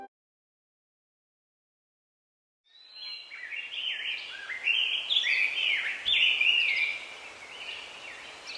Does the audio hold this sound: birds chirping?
yes